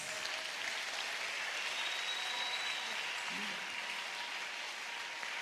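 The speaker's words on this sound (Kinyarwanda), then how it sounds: "Tushimira Imana n'amashyi atubute" A church congregation applauds steadily throughout, a dense, even wash of clapping that holds at constant loudness, with a faint voice briefly under it.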